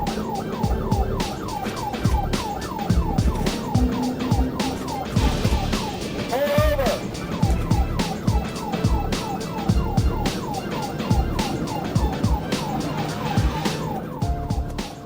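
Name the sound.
police car siren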